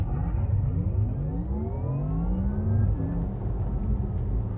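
A Porsche Taycan electric car on the 800-volt J1 platform pulls away under launch control on an open road, its motor whine climbing steadily in pitch over road and wind roar, loud and continuous throughout.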